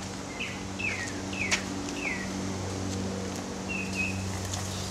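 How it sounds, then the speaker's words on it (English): Birds chirp outdoors, a handful of short clear descending tweets spaced across a few seconds over a steady low hum and rustling background, moderately near with no talk. "Just the birds?"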